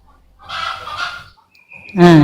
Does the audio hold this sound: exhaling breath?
no